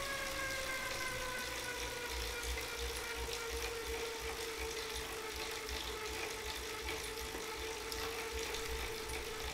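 Wahoo KICKR 2017 bike trainer spinning at a steady 200 watts in the small chainring: a continuous mechanical whir with a whining tone and ratcheting drivetrain texture, constant and without voices.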